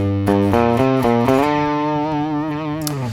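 Distorted electric guitar runs through the solo from A Hard Day's Night as a quick series of loud picked notes that climb step by step into sustained, slightly bent tones, played alone and heavy with effects.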